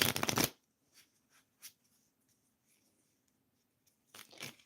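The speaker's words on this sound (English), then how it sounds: "Okay, let's shuffle the cards." Tarot cards are shuffled in a quick riffle, followed by a few soft taps and a quiet pause, then another brisk shuffle near the end.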